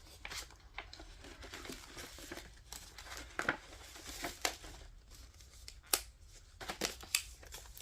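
Paper being cut with scissors while making a flip-flop journal, a series of close, crisp snips and crinkles scattered irregularly over a quiet indoor background with small rustles between cuts.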